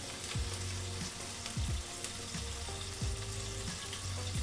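Thinly sliced Spam fries in a little oil in a pan over low-medium heat, giving a steady close sizzle and crackle with occasional clinks of a utensil against the pan, and no one talking.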